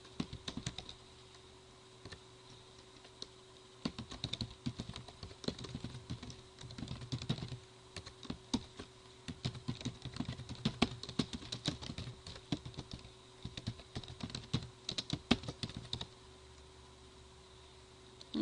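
Typing on a computer keyboard while entering data for a mail merge in Word: faint, rapid, irregular clicking in bursts with short pauses, quiet over a constant background hiss, no talk.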